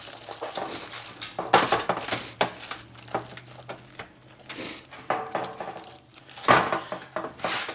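Thick tin foil crinkles and crunches as ribs get wrapped up tight, uneven bursts of rustling and scrunching with a few sharper crackles, close by and without talk.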